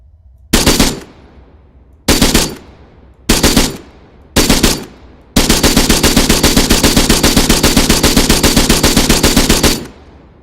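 A medium machine gun in a video game fires four short loud bursts with sharp gaps between them, then one long sustained burst of rapid, evenly spaced shots lasting about four seconds, close and punchy, with no talk.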